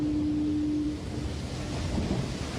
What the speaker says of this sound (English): And then I have the ever popular just foghorn.